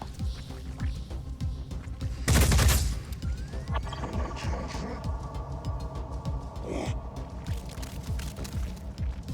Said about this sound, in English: Return fire, clipping through one Triton and hitting the other.